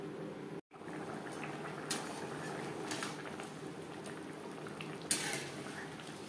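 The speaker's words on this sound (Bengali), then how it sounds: "চাল সেদ্ধ হওয়া পর্যন্ত অপেক্ষা করব" Rice and cauliflower boiling together in a pot of water, a steady low bubbling that continues without a break, with a couple of faint clinks, and one brief gap.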